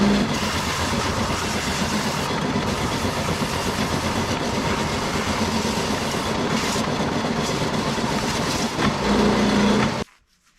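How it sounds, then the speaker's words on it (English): Table sander smoothing the edge of freshly cut sheet metal for a custom hood molding: a loud, continuous abrasive roar runs steadily for about ten seconds, swells briefly near the end, then cuts off abruptly. "I'm just going to touch it up with that table sander"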